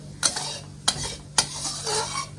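A spoon scrapes and clinks three times in a pot of sweet fish sauce simmering down, each stroke a sharp close knock over a soft bubbling hiss.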